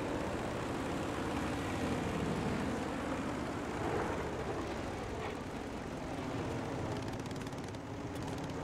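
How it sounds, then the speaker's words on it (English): A Corsair F4U-1A propeller fighter's engine drones steadily in Battlefield V, a continuous, fairly quiet roar with slight swells and no clear pauses. "No power in this engine."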